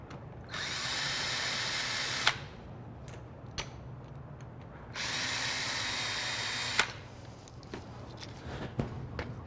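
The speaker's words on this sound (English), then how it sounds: "I'm going to use a screw gun to take out these two screws." Cordless screw gun backing out long doorknob screws, two whirring bursts of about two seconds each that end with a sharp click, followed by faint handling knocks.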